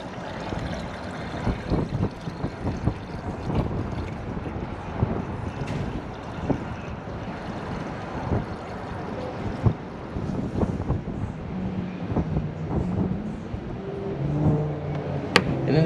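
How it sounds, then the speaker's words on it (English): Gusty wind blows outdoors beside a 2013 Chevrolet Silverado Duramax LML pickup, buffeting the microphone in loud, rough, uneven rushes over a low roar, with scattered knocks and clatters and no talk. "The wind."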